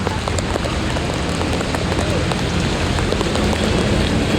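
Extreme heavy rain pours down on a flooded Mumbai street, a dense, loud, unbroken roar of water and splashing close by, steady throughout with no speech.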